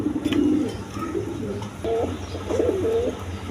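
A pair of Damascene pigeons coo repeatedly at close range, giving soft low rolling calls in several phrases over a faint background hum.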